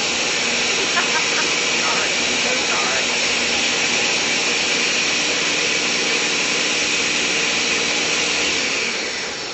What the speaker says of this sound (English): Why is your blender so loud